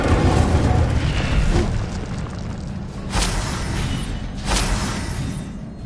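Incendio fire spell cast in Hogwarts Legacy, deep booming bursts of flame with rumbling low-end, two sharp whooshing blasts standing out later, loud and close with no talk.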